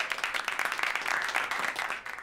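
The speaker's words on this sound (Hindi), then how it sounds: "जोरदार तालियां हो जाए सभी कंटेस्टेंट्स के लिए।" Loud, sustained applause from a television studio audience cheering contestants, dense rapid clapping that holds throughout and fades slightly at the end.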